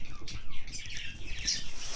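A parakeet in Okinawa chirping, with a few brief, bright, fairly loud chirps over rustling background noise.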